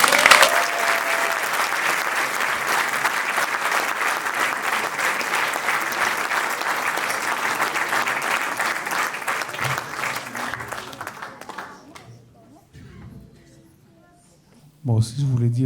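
A concert audience gives a long, loud burst of dense applause welcoming a singer onstage, fading out near the end before a voice begins speaking.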